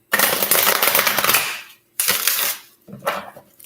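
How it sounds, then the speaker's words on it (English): Tarot cards are shuffled on a table, a loud, close riffling and slapping burst lasting over a second, then two shorter bursts of shuffling separated by brief silences. "hesitant to shuffle on the table because it tends to move the camera"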